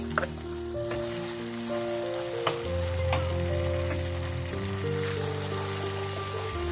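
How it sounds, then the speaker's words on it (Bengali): Ginger paste and tomato paste sauté in a pan for egg dhokla, a soft, steady sizzle with occasional light stirring taps, under a low constant hum and with no speech. "আদা বাটাটাকে দিয়ে আবারও কষিয়ে নেব"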